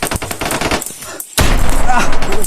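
Sniper gunfire erupts as a loud, dense burst of sharp cracks, following a stretch of raised voices and a brief hush.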